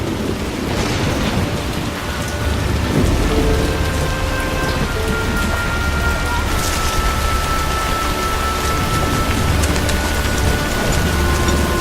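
Heavy rain pours steadily and loudly across the whole stretch, with deep thunder rumbling underneath and swelling at moments; no one speaks.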